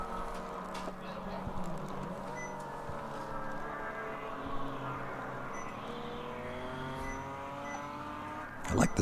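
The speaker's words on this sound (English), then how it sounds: "I like the sound of this car." A BMW race car engine drones with steady, rising and falling tones throughout an endurance race, while people talk over it.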